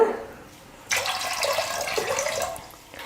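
Water runs steadily into a pressure cooker holding washed chana dal for about two seconds, a broad splashing pour, then stops.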